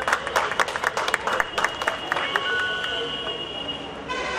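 Audience at an award ceremony and musical night at a resort clapping loudly in a dense burst of applause that thins toward the end, with some talk underneath.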